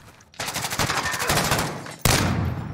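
An SPR rifle in a shooter game, a loud sharp report after a stretch of rapid clattering gunfire, with the crack ringing out near and alone.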